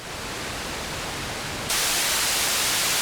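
A continuous, softer, darker hiss of pink noise from an Intellijel Cascadia synthesizer gives way abruptly to a brighter, louder hiss partway through.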